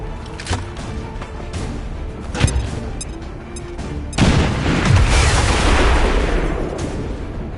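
A grenade explosion in the XCOM 2 War of the Chosen video game: scattered sharp gunfire cracks give way to a loud booming blast and a long rumbling roar that carries on to the end.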